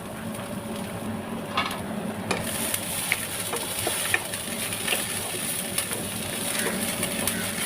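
Onion, grated coconut, ginger and garlic roast in a pan for a Mangalore chicken curry, giving a soft, steady sizzle with scattered scraping stirs and light clicks from the utensil.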